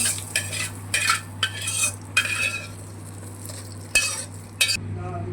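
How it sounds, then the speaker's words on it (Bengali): Whole spices such as cumin and white sesame fry in a little mustard oil in a pan, with a steady low hiss beneath repeated scraping and stirring clinks of a utensil against metal, close and fairly loud. "মশলাগুলো ভাজা হয়ে গেছে, এবারে তুলে নেব।"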